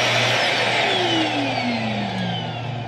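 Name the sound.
RV central vacuum system running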